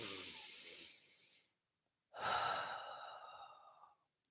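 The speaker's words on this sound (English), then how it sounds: "Take one final breath." A deep breath is drawn in and then slowly let out with a long soft exhale, quiet and close, with a short silent pause between the two.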